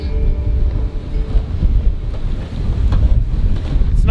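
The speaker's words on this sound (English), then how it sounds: "See the gusts coming through these gaps." Strong wind buffets a sailboat in gusts, with heavy low rumbling microphone noise and a continuous rushing roar swelling and easing, close and loud with no voices.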